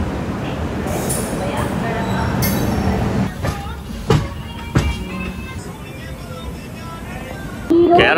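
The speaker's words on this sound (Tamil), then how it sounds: "கேரளா எக்ஸ்பிரஸ் வந்துருச்சு" The Kerala Express train at a station, with rumbling rail noise and clanking carriages, loud at first and then thinning into sparse metallic clinks and knocks.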